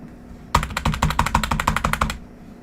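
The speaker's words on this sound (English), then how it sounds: "we're going from a mechanical switch keyboard to a membrane keyboard, so this can't sound pleasant" A membrane computer keyboard typed in a quick burst of about fifteen close, crisp clicks lasting over a second and a half, with quiet before and after.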